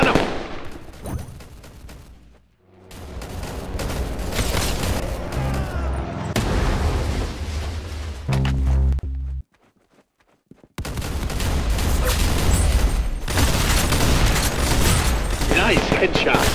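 Gunfire in a video game shooter: bursts of rapid shots and booms over a game soundtrack, broken by a short near-silent gap, with speech at times.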